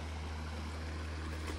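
Stream water rushes strongly past in a dense, unbroken roar that stays steady and close throughout, with no voices over it.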